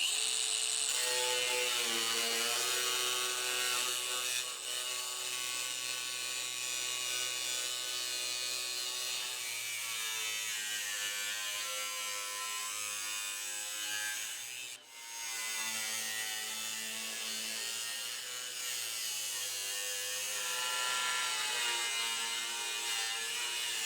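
An angle grinder cuts slits into a steel burn barrel steadied with bricks, giving a loud, continuous high-pitched whine with a harmonic drone that holds for the whole stretch, dipping briefly near the middle, with no talk.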